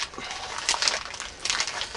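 Crinkly foil packaging of a Panini Hot Wheels trading card pack tears open by hand with a rough, crackling rip in two quick surges.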